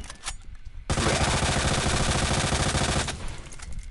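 A submachine gun fires in the Resident Evil 2 Remake video game in a single sustained rapid burst of about two seconds, loud and dense, after a few quieter sounds.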